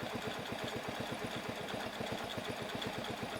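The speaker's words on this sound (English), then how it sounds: "It's almost like a brand new engine again." A rebuilt old engine idles, its rapid, even pulses thudding in a steady rhythm. It is close and continuous with no talk over it.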